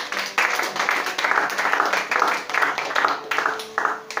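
Church congregation clapping during a French-language Sunday worship service, steady continuous applause filling the room with dense overlapping hand claps, moderately loud and close, with faint voices mixed underneath.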